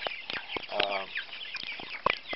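Chickens clucking and chattering close by as they eat chick starter feed, with short repeated calls and one drawn-out squawk, a voice speaking faintly underneath.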